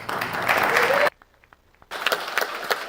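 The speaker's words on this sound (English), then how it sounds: "just ask that everyone give them a round of applause as we take our photo" Applause at a county commission regular meeting in Santa Rosa County rises loudly for about a second, cuts out to near silence, then returns with scattered claps.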